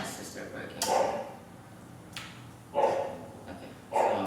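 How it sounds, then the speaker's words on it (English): A dog barks several times at a distance, in short separated bursts with quiet gaps between them. "my dog is out there and he's just barking"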